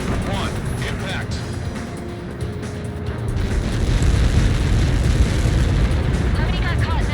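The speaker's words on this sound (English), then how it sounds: "How many got caught in that explosion?" A massive explosion in the combat flight video game Ace Combat 7 rolls out as a long, deep rumbling boom that swells louder toward the end, with radio voices talking over it.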